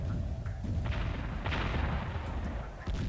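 Cannons fire repeatedly in the strategy video game Warzone 2100, a dense run of overlapping booms and thuds under continuous battle rumble.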